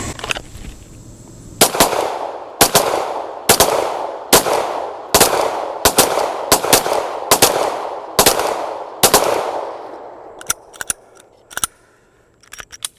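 Ten handgun shots fired in a timed drill drawn from a holster at a shooting range, sharp loud reports spaced about a second apart with ringing decay, followed by a few quieter metallic clicks and clatter.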